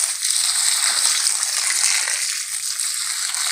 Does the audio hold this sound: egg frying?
no